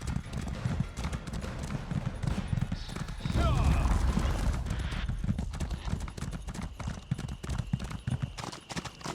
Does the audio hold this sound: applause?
no